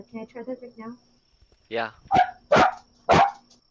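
A person imitates a dog named Luna barking, a few barks after a brief spoken question and reply, four loud, separate yelps spaced about half a second apart.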